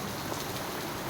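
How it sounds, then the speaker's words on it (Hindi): A heavy downpour beside a house in Rajajipuram, Lucknow, makes a dense, unbroken hiss of rain hitting surfaces, steady and even throughout with no voices. "मूसलाधार बारिश"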